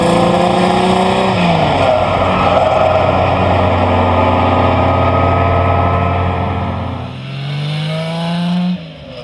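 A mid-engined Lamborghini Miura Roadster V12 fed by six Weber twin carburetors roars loudly and close, revving up and down with rising and falling pitch and no talk.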